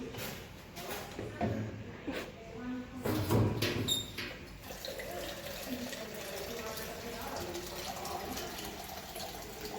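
Water pours and splashes into a measuring jug for a foot bath, a steady running stream with brief louder gurgles near the start, close by in a quiet indoor space.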